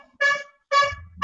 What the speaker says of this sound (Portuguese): O cara tem uma buzina aí.